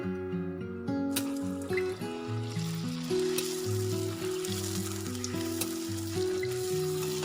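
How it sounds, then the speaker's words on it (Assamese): Puris frying one at a time in hot refined oil in a kadai for pani puri, a steady close sizzle and bubbling crackle running throughout with no talk. "অকণমান ধোঁৱা ওলোৱাৰ সৈতে পুৰিখিনি এখন এখনকৈ দি যাব লাগিব।"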